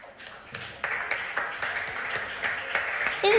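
An audience at a school quiz competition claps in unison for a quiz team, a steady rhythmic beat of crisp claps over a murmuring hall background.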